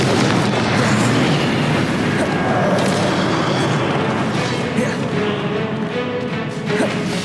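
Confringo fire-spell blasts in Hogwarts Legacy on PS4, a dense, loud, continuous barrage of booming explosions and crackling bursts that overlap without pause.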